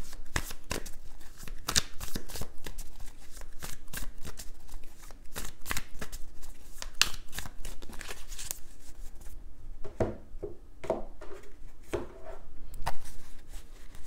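Tarot cards are shuffled by hand in a long run of crisp, rapid riffling bursts, close and clear, with a brief quieter pause near the end before more snaps.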